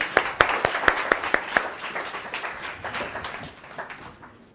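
An audience claps in a lively burst of applause that thins out after a couple of seconds, with sharp individual claps standing out before fading.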